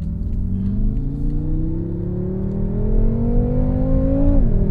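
A 2014 BMW M5 F10 engine pulls hard under acceleration, its loud, steady roar climbing smoothly in pitch for several seconds before a brief dip at a gear change.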